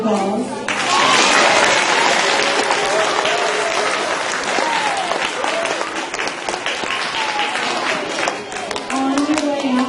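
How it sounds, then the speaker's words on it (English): Loud, lively audience applause for the band, many hands clapping continuously with crowd voices and cheering mixed through it. "give them one more round of applause"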